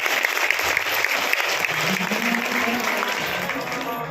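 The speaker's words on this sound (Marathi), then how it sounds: "वाजवा ना टाळ्या" A crowd at a devotional religious discourse breaks into sustained applause, loud and even throughout, with a voice talking faintly beneath the clapping.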